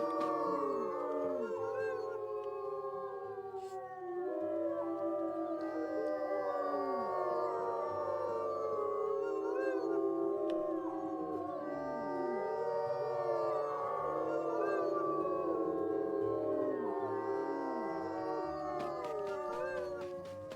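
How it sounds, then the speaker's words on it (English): A pack of wolves in the video game WolfQuest howls together, with many long, overlapping rising and falling wails weaving a continuous chorus that stays fairly loud for the whole stretch. "shall we do like a howl together"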